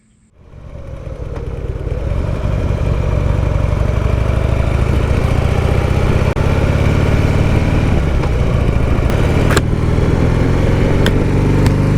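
A motorcycle engine fires up after a brief quiet moment, then settles into a loud, steady, close rumble that holds evenly to the end, with no talking.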